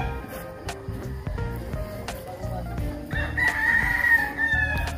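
A rooster crows loudly and close at a crowded farm gathering, its long drawn call coming in the latter half over steady clucking and the chatter of other fowl.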